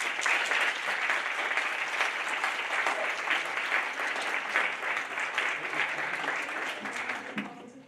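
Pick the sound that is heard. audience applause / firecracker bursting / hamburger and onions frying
audience applause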